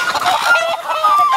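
Chickens cluck and squawk in a short, busy burst, several birds close together, loud and continuous.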